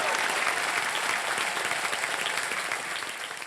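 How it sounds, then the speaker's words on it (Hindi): Studio audience on a televised quiz game show breaks into loud, sustained applause, a dense steady wash of clapping that stays strong throughout and fades slightly at the end. "जोरदार तालियां"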